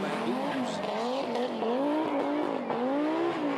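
Audi Quattro S2 rally car exiting a corner at a forest rally, the engine howling with rising and falling pitch as it powers out, loud and close, with a commentator talking over it.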